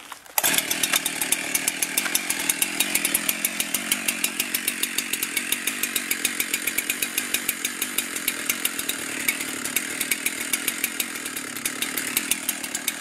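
A chainsaw mill with a Beam Machine attachment runs steadily at high throttle, cutting rough lumber with a loud, continuous buzzing roar and no talking.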